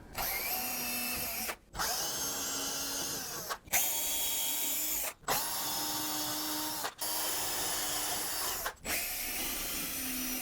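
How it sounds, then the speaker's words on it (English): A power drill boring small pilot holes in a plantation shutter frame whirs steadily in repeated runs, stopping briefly between each burst before spinning up again, close and fairly loud. "we're going to drill just some little pilot holes first"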